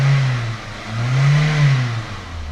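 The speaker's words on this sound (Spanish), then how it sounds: "Y vamos a acelerarlo." A car engine revved as the car accelerates: loud, close droning swells that rise, dip, then climb again before easing off, with no voices.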